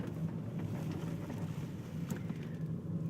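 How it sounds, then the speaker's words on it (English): Steady, continuous rumble of a car driving along a switchback road on the way to work, dominated by low engine and road noise with wind buffeting the microphone. "some switchback road again, heading to work."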